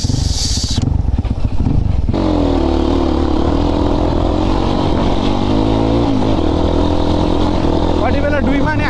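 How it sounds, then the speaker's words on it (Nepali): A dirt bike on a rural village track starts with a burst, then settles into a loud, steady idle and revving close by, with a person talking over the engine. "बाइकले चाहिँ स्टार्ट हान्न पऱ्यो के केटा"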